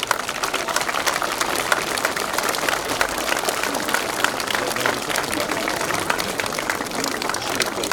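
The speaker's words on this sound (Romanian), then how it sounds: "Și vă rog cu toții să-l aplaudăm." A crowd applauds a war veteran at a centenary commemoration of battles in the Uz Valley at Dărmănești, with steady, dense clapping continuing loudly throughout without letting up.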